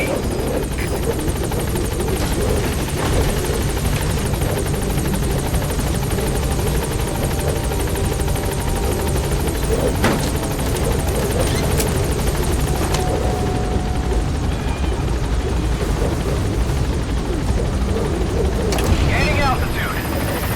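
The Pequod helicopter from Metal Gear Solid V: The Phantom Pain, a steady, loud rotor drone with a constant whirring engine roar throughout, while a voice talks over it.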